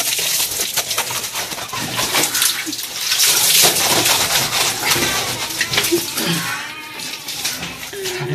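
Water splashes and pours steadily during a soap bath, close and fairly loud, with birds faintly audible in the background.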